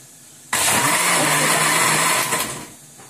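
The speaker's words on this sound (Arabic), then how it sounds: "هنضرب بقى المكونات بتاعتنا" An electric mixer starts abruptly and beats cake batter ingredients for a kasatouta dessert, a loud steady whirring that runs for about two seconds and then winds down.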